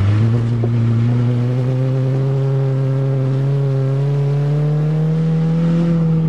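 Saturn car engine running steadily close by, a strong droning tone that rises slightly in pitch toward the end, with no talking.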